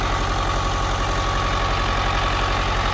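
A tractor engine idles steadily in a soybean field on clay soil, a close, loud, continuous mechanical drone with a throbbing low pulse and no break.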